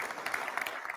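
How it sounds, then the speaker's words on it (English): Audience applause at an all-hands staff meeting, a brief burst of clapping from a modest crowd, fairly steady and moderately loud for about a second. "Big applause, please."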